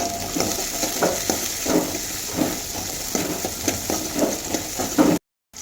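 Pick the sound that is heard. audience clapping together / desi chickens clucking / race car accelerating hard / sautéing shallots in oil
sautéing shallots in oil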